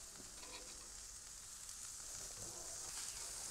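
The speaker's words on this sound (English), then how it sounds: "You can hear that sizzling sound." Beef burgers frying on a hot backyard cooking surface, giving a steady, continuous sizzle and hiss throughout, faint and even with no voices.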